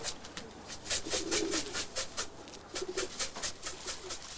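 Pigeons at feeding time, coming down to grain after exercise, with repeated soft cooing and fluttering calls in a steady pulsing series, fairly close.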